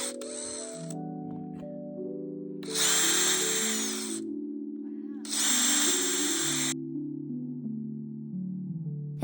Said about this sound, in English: my friend felt so bad for me that he designed me a jig and 3D printed it so that I can drill the paper instead